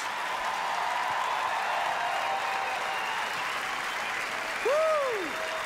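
Steady audience applause fills the room at the Melbourne International Comedy Festival gala, a dense continuous clapping that swells near the end, where a short whoop or whistle rises above it.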